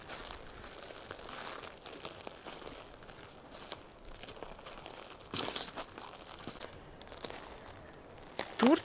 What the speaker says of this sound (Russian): Шишки хрустят, и листва, и иголки.